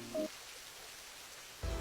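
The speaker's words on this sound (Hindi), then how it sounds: "अचानक ही बारिश शुरू हो गई" Rain begins falling in a Hindi cartoon as a soft, steady, hissing patter. It stays faint and continuous throughout, with brief louder blips at the start and end and no talk.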